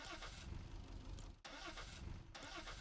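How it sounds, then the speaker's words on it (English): Engine of the Pizza Planet delivery truck in the Fortnite video game, a steady mid-pitched car motor rumbling continuously, loud and close, with a brief cut near the middle and no talk over it. "we have the Pizza Planet delivery truck right here"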